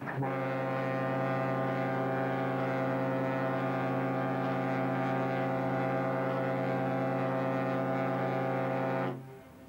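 A deep foghorn from the cruise ship Norway sounds one long, sustained blast for about nine seconds, loud and steady, then cuts off abruptly, in the port of Le Havre.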